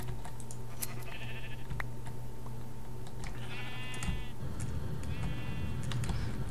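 Sheep in the Minecraft video game let out three short, nasal bleats, spaced a second or two apart, fairly close over a low steady background hum.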